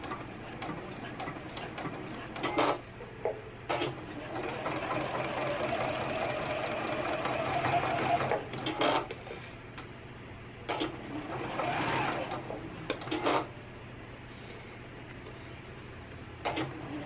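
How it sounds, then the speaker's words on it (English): A sewing machine runs a straight stitch along bra channeling, whirring in a long steady burst with shorter start-stop runs and mechanical ticks before and after. "I want it on a straight stitch, and I'm going to start stitching."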